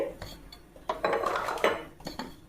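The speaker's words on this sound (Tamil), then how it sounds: "அடுப்பில் சட்டி வச்சுக்குவோம்." A cooking pan is set on a stove while making a pea curry, giving several close metallic clanks and scrapes of cookware at uneven intervals.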